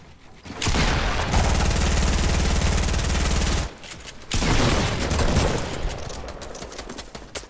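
Gunfire in a shooter video game, a loud close sustained burst of rapid automatic fire, then a short gap and another dense volley with scattered shots.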